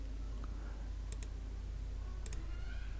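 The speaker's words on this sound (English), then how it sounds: "click on this refresh button" Two pairs of crisp, quiet computer mouse clicks pressing a refresh button, spaced about a second apart over a low steady hum.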